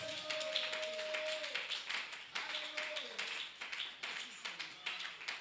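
A church congregation claps rhythmically during a lively French-language sermon, producing steady sharp beats of applause under singing or shouted praise.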